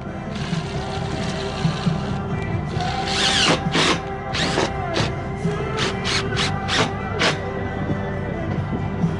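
A power drill drives screws into metal roof panels on a roof with decking beneath, giving several loud, close bursts of whirring in quick succession over constant background noise.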